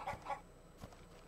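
Chickens in the farming game Ludus give a couple of short clucks near the start, then one more brief cluck, over a faint steady game background.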